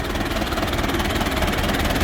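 A tractor engine runs steadily on Jomtien beach in Thailand, a loud, constant low mechanical drone with a throbbing idle-like rhythm and no talk.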